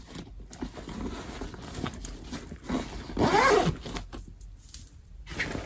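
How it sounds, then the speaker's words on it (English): A zipper runs closed on a skate bag packed with Crocs: one quick, bright rasping pull near the end, close and fairly loud, with faint handling rustle before and after. "Zip it up like so."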